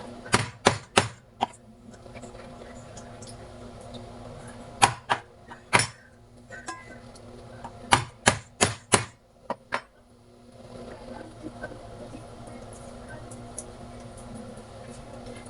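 Garlic for paksiw is smashed with a hammer on a hard surface in quick clusters of sharp, close knocks, three or four at a time, separated by short pauses and ending in quiet.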